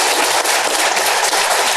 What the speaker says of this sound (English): let's give a round of applause, first of all, to the panelists